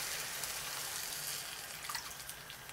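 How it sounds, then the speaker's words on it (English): Coconut water being poured into a pot of braising pork belly for Vietnamese thịt kho tàu, a steady close splashing pour that runs throughout with a few brighter splashes near the end, no voices. "Add the coconut water."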